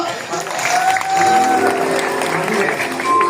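Studio audience clapping at an Indonesian sketch comedy show, a steady wash of applause over a few seconds with voices and background chatter mixed in.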